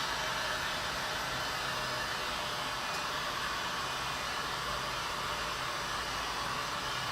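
A heat gun warming crinkled chrome vinyl wrap film, a loud, steady blowing hiss of hot air running without a break from start to finish.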